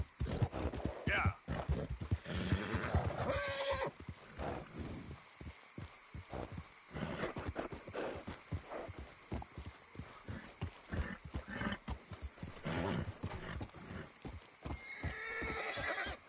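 Horse hooves clip-clopping and a horse neighing in the video game Red Dead Redemption 2, rhythmic hoofbeats running throughout with whinnies breaking in early and near the end, with someone speaking over parts of it.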